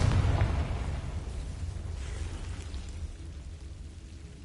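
A Confringo fire spell blast in Hogwarts Legacy, a single loud booming burst at the start that rolls off into a fading rumble with no talk.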